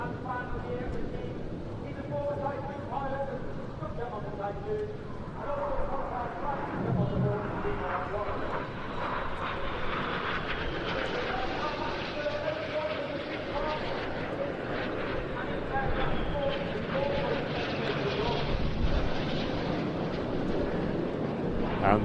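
Red Arrows display jets performing an opposing four-point roll at the Bournemouth Air Festival, a continuous loud jet roar filling the air, heard from a hotel rooftop with wind buffeting the microphone throughout.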